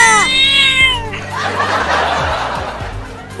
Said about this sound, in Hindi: ये बिल्ली अपनी दांतें दिखा रही है हमें काटने के लिए।